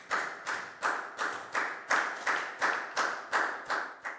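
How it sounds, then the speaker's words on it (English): A class of Year 4 schoolchildren claps together in unison, about a dozen sharp, evenly spaced group claps in a steady beat, with no talking. "Give yourselves all a big round of applause."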